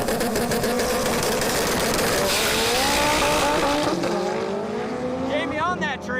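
A drag race car running 40 pounds of boost roars at full throttle down the strip, a loud, rising engine howl with whining upper tones that climbs and then shifts pitch near the end, continuous and close.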